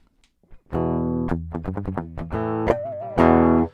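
Distorted electric bass playing a short run of notes, gritty and buzzy, with a sustained bent note before a final loud chord.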